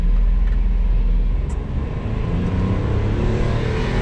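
A Honda Today car revving hard as it accelerates in first gear toward the redline, a loud, steady engine drone from inside the cabin with a deep low rumble throughout.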